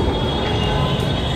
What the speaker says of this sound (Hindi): मेट्रो तो आ गई है